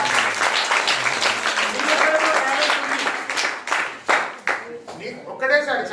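Audience clapping at a motivational talk for students, a dense burst of applause that thins into scattered claps near the end, with voices mixed in.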